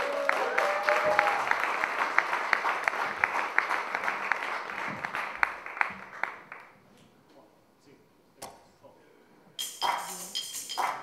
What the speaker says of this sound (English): So ladies and gentlemen, big round of applause please.